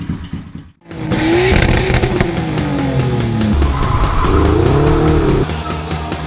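A Honda Grom motorcycle with a 170cc big bore kit, Chimera intake and Zoom exhaust revs hard and loud, its pitch rising and falling through gear changes as it rides past close by.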